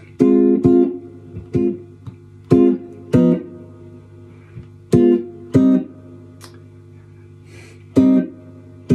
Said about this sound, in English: And the chords sounds like this